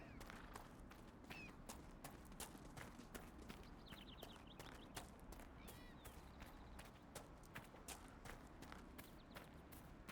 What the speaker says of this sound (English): I keep hearing horse noises.